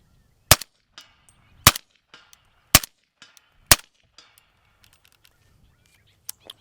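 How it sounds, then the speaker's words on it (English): A compact 300 BLK rifle firing subsonic ammunition: four sharp, evenly spaced shots about a second apart, each a crisp crack with short echo, followed by faint quieter ticks and outdoor background. "I'm currently shooting subsonic ammunition"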